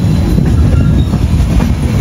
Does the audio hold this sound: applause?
no